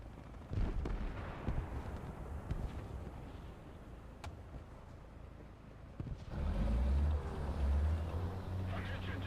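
Tank gun in War Thunder, firing with a heavy deep boom after a stretch of low rumbling engine and battle noise, loud and close.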